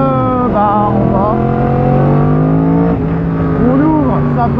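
Yamaha MT10 roadster motorcycle engine in mode A, pulling hard with steady rising and falling revs, a loud, close, continuous tone with stacked harmonics and no pause throughout.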